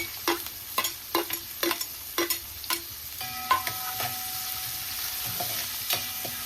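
Onions, green chillies and curry leaves fry in a pan with mustard seeds and cumin, giving a continuous sizzle broken by a rhythmic series of sharp spatula taps and scrapes, close up with no talking.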